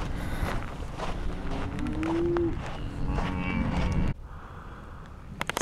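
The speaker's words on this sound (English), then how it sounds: "So many cows." A cow gives a drawn-out low moo on open western rangeland, heard amid heavy wind noise and a mix of distant livestock sounds, with no talk.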